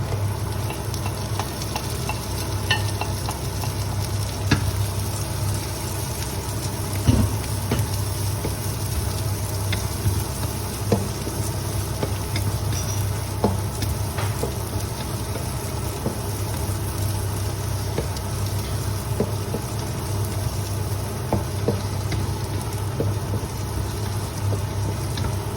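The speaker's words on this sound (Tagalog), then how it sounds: "Ato na isunod ang sibuyas." Onion frying in a pan, a steady close sizzle with faint stirring clicks, unchanging throughout with no voices.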